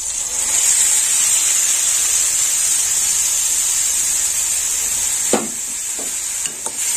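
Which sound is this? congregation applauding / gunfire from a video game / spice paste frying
spice paste frying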